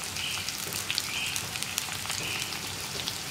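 Split green chili and onion sizzle steadily in hot oil for an onion curry, a dense close crackle with no voices.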